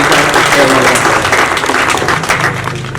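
Audience applause at a chaupal event honouring a freedom fighter, dense sustained clapping from a crowd filling the room, steady and fairly loud throughout, easing slightly toward the end.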